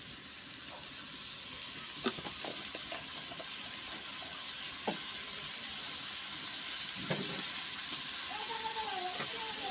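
Oil pours into a pan of chewa fish chorchori curry and sizzles with a steady, fairly loud hiss throughout, broken by a few light clicks of a utensil against the pan.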